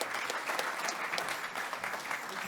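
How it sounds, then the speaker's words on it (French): An audience at an awards evening for sports trophies breaks into sustained applause, a dense and even clatter of many hands that stays close and continuous with no speech on top. "Ça s'applaudit, ça, mesdames et messieurs."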